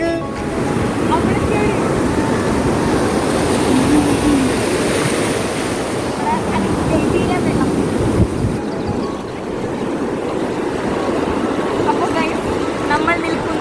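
Sea waves wash and break steadily around people standing in the water, a loud continuous surf roar mixed with wind buffeting the microphone, voices faintly underneath.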